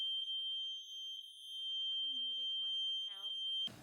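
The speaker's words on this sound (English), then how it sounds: "The fire alarm just went out and we have to go outside" A loud, continuous high-pitched fire alarm tone sounds steadily for nearly four seconds, with a person's voice talking faintly beneath it partway through.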